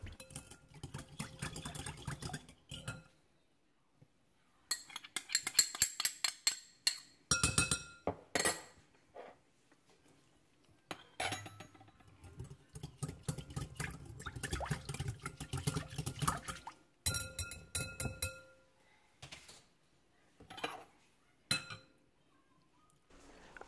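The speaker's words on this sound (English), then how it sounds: "Now I am just going to give everything a whisk." A whisk beats lime and lemon juice in a bowl for Mexican shrimp cocktail, giving bursts of quick, clinking, rattling strokes with short pauses between them, close and fairly light.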